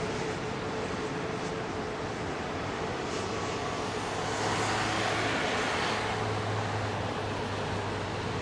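A Boeing 767 airliner taxiing at London Heathrow, a distant broad rumble and jet hiss that swells slightly midway, steady under open-air background noise.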